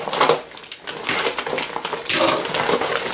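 A small shipping package in a smashed-up box is torn open, giving busy crinkling, rustling and crunching of cardboard and packaging across the whole stretch, fairly close and steady, with no voices.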